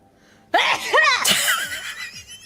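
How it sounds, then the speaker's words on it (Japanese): A sudden, forceful sneeze from a female VTuber during a livestream, preceded by a quiet pause and followed by a loud drawn-out vocal burst that trails off. "お前、それ以外のくしゃみできねえのかよ。"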